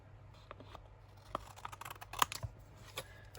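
Scissors trimming paper scraps for a junk journal craft project, several quiet crisp snips at close range against a soft background.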